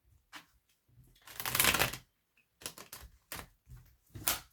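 Oracle cards shuffled by hand for a tarot reading, several bursts of riffling and sliding card noise, one longer flurry in the middle, close and fairly quiet with no talking.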